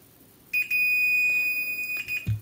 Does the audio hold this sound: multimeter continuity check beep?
yes